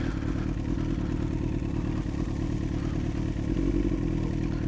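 Motorcycle riding slowly on an icy, snowy road, its engine a steady near drone with faint clatter and scraping, held at a fairly even level throughout with no talk.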